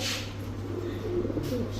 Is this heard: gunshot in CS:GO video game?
no